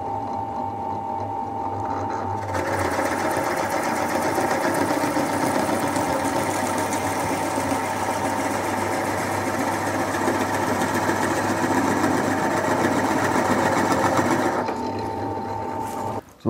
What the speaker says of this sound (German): die Löcher haben wir gebohrt